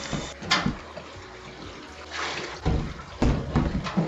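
Water splashes and pours while a bowl used for hand-washing towels is rinsed, coming in irregular bursts and gurgles at close range.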